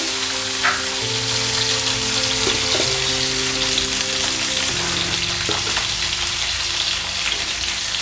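Boiled chickpeas for a Punjabi samosa filling fry in a hot pan with a loud, steady, close sizzle that goes on without a break, along with a faint tonal hum.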